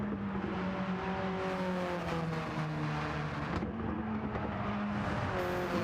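An Alfa Romeo race car engine in Gran Turismo 7 roars steadily at high revs, its droning harmonics rising and falling as it passes close by, loud throughout with no talk.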